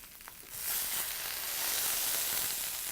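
Bok choy hits a hot pan and breaks into a loud, steady sizzle that swells after a brief quiet start and keeps hissing evenly, with no talking over it.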